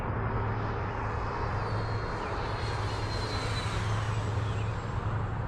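An L-39 jet aircraft engine drones steadily during a landing approach, a loud, even roar with a low hum throughout and no talk.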